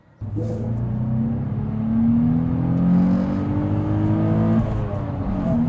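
Nissan 350Z engine roaring close by, a deep steady rumble that climbs slightly in pitch and holds for several seconds before easing, loud and alone.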